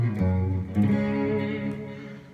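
A heavily distorted electric guitar chord rings out and is struck again, sustaining with a thick, fuzzy tone as it slowly fades.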